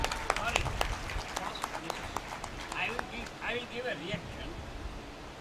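A book launch audience claps for the arrival of the autobiography's author, a quiet, dense patter of hands that runs steadily throughout, with some talking mixed in.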